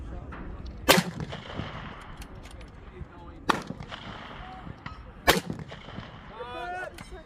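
Three sharp, loud rifle shots ring out at a precision rifle match, spaced a couple of seconds apart, each followed by a brief echo, with voices murmuring in between.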